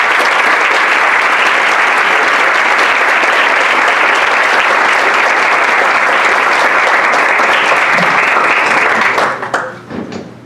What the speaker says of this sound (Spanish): Por favor, un aplauso para don Alfonso.